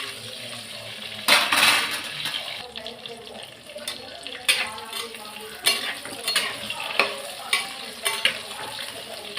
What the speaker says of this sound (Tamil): முதல்ல கடாயில் இந்த சட்டியில் கத்திரிக்காய் வறுத்துட்டு தான் மற்றதெல்லாம் வதக்கணும்